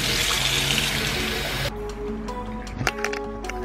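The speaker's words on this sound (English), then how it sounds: "Fill my water bottle up." Water from a tap runs steadily into a water bottle for about a second and a half, a broad close rush that then cuts off, leaving light handling clicks and small knocks.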